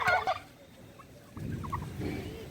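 Turkeys on a turkey farm let out a short, loud gobble at the start. Softer, scattered bird calls and low background noise follow.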